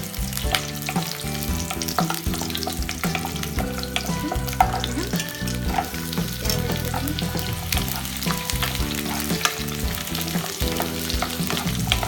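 Steady crackling sizzle of garlic, cashews and ginger frying in hot oil in a pan, with occasional clinks of stirring, continuous and close.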